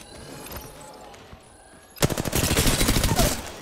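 Rapid automatic gunfire in a video game bursts in about halfway through, loud and continuous, following a quieter stretch of faint game ambience.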